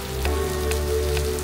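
Steady rain falls outdoors, a continuous even hiss with occasional louder drops, alone without voices.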